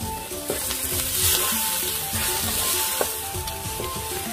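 A pot of curry sizzling and bubbling while coconut milk and water go in, with steady frying hiss and occasional stirring clinks close up, no talk.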